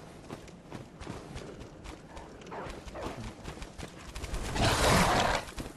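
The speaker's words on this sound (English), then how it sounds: "You could hear the pitter patter of footsteps." Quick, pattering footsteps run through the Forbidden Woods in the video game Bloodborne, faint and irregular at first, then growing louder and denser near the end.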